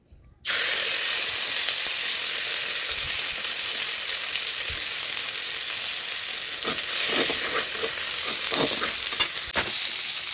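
Chopped ginger, garlic and green chilli hit hot oil and burst into a loud, sustained sizzle that runs without a break. Scattered spatula scrapes and taps join in toward the end.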